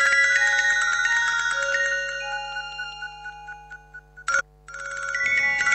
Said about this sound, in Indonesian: Ada telepon, diam dulu ya.